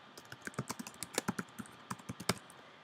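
Keystrokes patter on a computer keyboard in a quick, uneven run of clicks, close and moderately quiet, with brief pauses between bursts and no talking.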